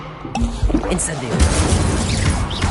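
An Incendio fire spell is cast in Hogwarts Legacy, giving a short burst of crackling, whooshing noise that swells after a brief quiet start, with talk over it.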